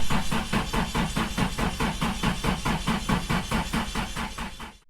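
A built Nissan SR20 engine in an S14 cranks on the starter without firing, a steady rhythmic chug of regular beats held at an even level for about five seconds before cutting off abruptly.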